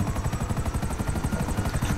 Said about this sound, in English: But I at least got a helicopter.